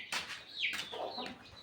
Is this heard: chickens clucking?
yes